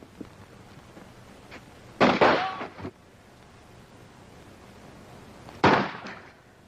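Two sharp gunshots from a comedy film, the first at close range with a brief echoing tail and the second a few seconds later, separated by quiet room tone.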